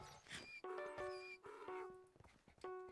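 Minecraft horse sounds: whinnying, snorting calls and hoof clops repeating in short bursts over a quiet background, moderately close.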